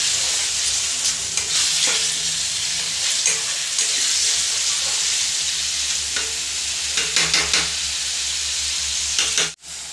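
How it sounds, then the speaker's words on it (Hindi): Masala with tomatoes frying in a pan for chicken kosha, a close, steady sizzle broken by repeated scraping stirs of a spoon, ending with a brief sharp knock. "अभी मसाला पूरा फ्राई हो गया अच्छा तरीका से।"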